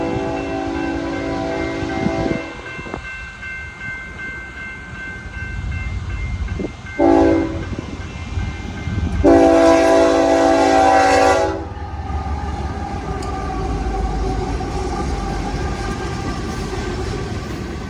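A southbound freight rock train rolls through the 12th Street crossing with a steady rumble and clatter of wagons. Its horn sounds loud and close twice: a short blast, then a longer one of about two seconds.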